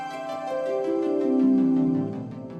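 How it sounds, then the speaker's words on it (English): The Prelude from Final Fantasy VII Remake plays as smooth, sustained orchestral tones with soft repeating arpeggio-like pulses, swelling gently in the middle, with no talking over it. "So what you're hearing here is the Prelude from Final Fantasy VII Remake"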